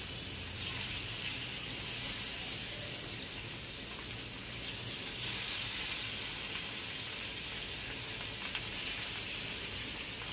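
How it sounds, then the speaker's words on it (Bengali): Fish frying together in oil in a pan, a steady broad hissing sizzle that stays loud and even throughout, with no one speaking. "এখন আমি একটা প্যানে তেল দিয়ে আমি মাছগুলো ভেজে নিচ্ছি।"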